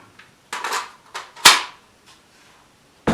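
Rifle being cleared before mounting, producing a few sharp metallic clicks and clacks of the action spaced over a few seconds, close and fairly loud with quiet gaps between them.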